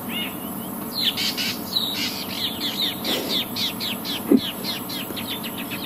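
A juvenile owl calls at sunset in the wild, giving a run of short, repeated high chirping notes in a quick uneven rhythm, fairly close and clear over faint background hiss.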